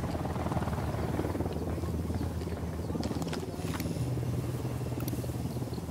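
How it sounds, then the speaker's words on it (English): Helicopter rotor chop from the Ghost Recon Wildlands video game, a steady low throbbing beat droning continuously at moderate loudness, with faint game ambience and brief higher clicks over it. "We got a chopper."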